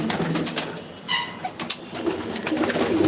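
Pigeons coo softly in a few close, rounded calls over a low, steady ambient background, with no voices present.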